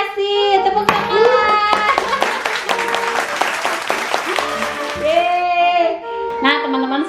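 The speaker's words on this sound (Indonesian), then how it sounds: "Tepuk tangan." Applause and hand clapping from a small audience, including children, at a kids' toy magic trick show, a steady burst of claps running throughout with voices and cheering over it.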